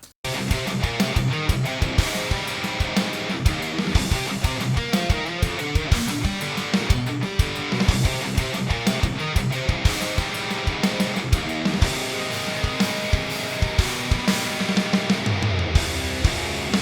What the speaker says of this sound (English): Programmed drums and stereo rhythm guitars.